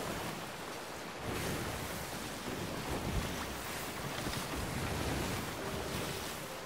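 A sailing ship rides ocean waves in the Sea of Thieves video game, with continuous wind and surf washing in a broad, steady roar that swells slightly partway through, loud and with no voices.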